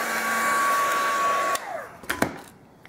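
A heat tool blows a steady, loud stream of hot air over a glittered wooden clothespin, then shuts off and winds down, leaving a few light taps and clicks.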